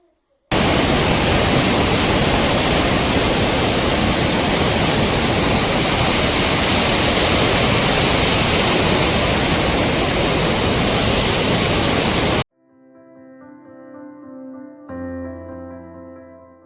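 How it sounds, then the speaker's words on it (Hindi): The Kali river near Dharchula runs in full spate, a loud, dense roar of rushing water that fills about twelve seconds before cutting off abruptly, after which quieter music plays. "काली नदी अपने पूरे बहाव के साथ आनंद लेते हुए बह रही है"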